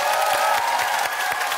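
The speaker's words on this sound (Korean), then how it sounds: "박수 한번 크게 주세요" A comedy show audience applauding on cue, a dense steady wash of clapping from a crowd, fairly loud throughout the short burst.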